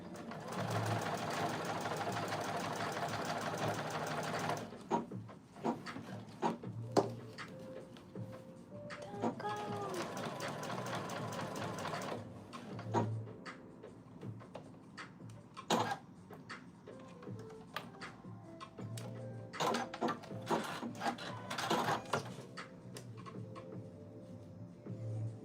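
A sewing machine runs a basting stitch along a narrow welt in two long, quiet bursts of rapid stitching, with softer clicks and handling noises in the gaps.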